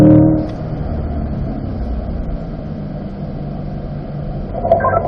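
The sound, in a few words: car driving a lap on a race track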